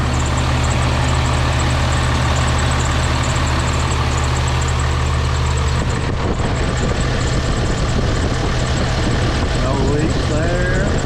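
An 1100 hp Cummins diesel engine idles with a newly installed turbo, a loud, steady, close rumble that keeps running throughout with a slight shift in tone partway through.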